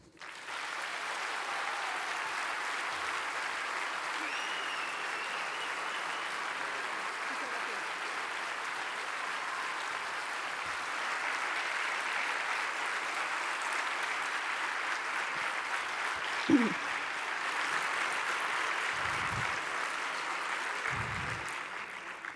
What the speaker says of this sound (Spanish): Muy merecido ese aplauso